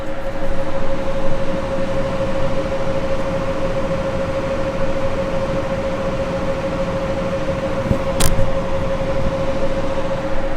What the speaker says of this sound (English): Any noise you hear, that's just all these case fans.